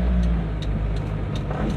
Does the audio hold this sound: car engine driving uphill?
yes